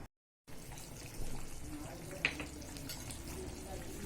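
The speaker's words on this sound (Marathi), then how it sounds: "भाजी छान उकळली आहे आपली" Vegetable curry simmers in a pan with a continuous low bubbling and soft sizzle, steady throughout with one brief bright clink midway and no clear speech.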